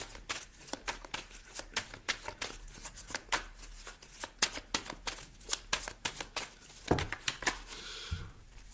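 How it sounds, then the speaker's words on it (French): Tarot cards shuffled and dealt out on a table, rapid close riffling bursts and crisp slaps repeating in an irregular rhythm, with no voices over them. "Je vais rajouter des cartes."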